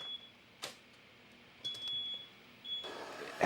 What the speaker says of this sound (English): you can hear the smoke alarm in the garage going off because of that